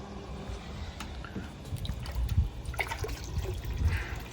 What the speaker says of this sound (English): It's a good flow for the water pump